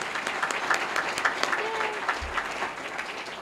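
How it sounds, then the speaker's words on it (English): Steady audience applause at a city mayor's awards ceremony, many hands clapping at moderate distance for several seconds, with faint voices mixed in. "just another round of applause for those super great."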